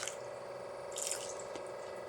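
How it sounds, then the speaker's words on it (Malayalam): Water splashes and trickles into a pot of sardine curry with raw mango, a short continuous pour with a few drips and no talking. "ആവശ്യത്തിന് ഞാൻ കുറച്ച് വെള്ളം കൂടെ ചേർത്ത് കൊടുക്കുകയാണേ"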